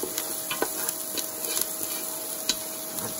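Juniper berries go into a pot of onions frying in a steady sizzle, with scattered sharp clicks and taps of the berries and utensil landing over the hiss.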